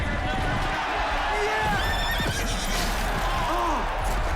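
A horse whinnies loudly during a movie horse race, its rising and falling calls repeating over a busy crowd and race background with hoofbeat-like thuds.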